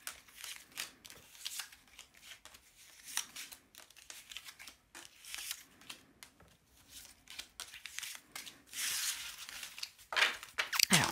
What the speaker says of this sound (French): Tirage à 9 cartes.